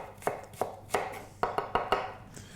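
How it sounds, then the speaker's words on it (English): A large knife rocks through an onion on a cutting board, giving six crisp chops in an uneven rhythm that quickens toward the end, close and clear with no talking. "use a large knife, and it's a rocking motion here"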